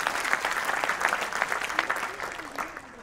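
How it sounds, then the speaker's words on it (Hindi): An audience at a Hindi kavi sammelan comedy show claps steadily throughout, a dense, even wash of applause heard at moderate distance. "देखिए आपने ताली बजाई भावुकता में आकर"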